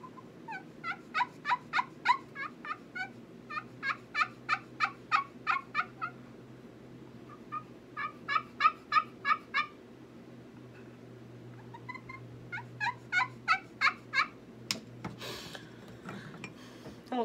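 Rhythmic turkey yelps from a pot call played with a homemade striker come in several bursts of rapid notes separated by short pauses, close and crisp, with a faint sharp click near the end.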